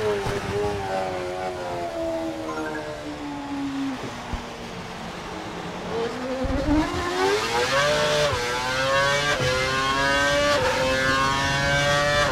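High-revving F1 race car engine in the F1 2012 video game, a loud continuous whine whose pitch climbs and falls as the car accelerates and shifts gears.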